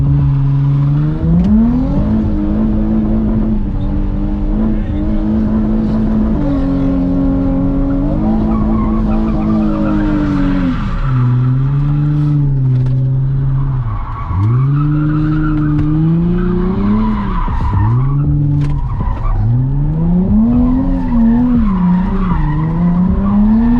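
A Nissan 350Z drifts and does donuts, its tires squealing in long, loud wavering skids over a steady revving engine that rises and falls throughout, close and continuous.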